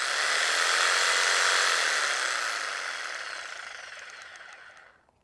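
A Makita 4350FCT top-handle jigsaw, 6.3 amp with variable speed, runs with a loud, close, high buzzing whir, then spins down gradually and falls silent near the end.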